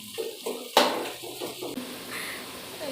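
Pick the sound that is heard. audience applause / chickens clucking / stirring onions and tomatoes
stirring onions and tomatoes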